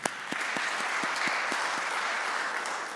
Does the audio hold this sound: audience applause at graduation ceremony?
yes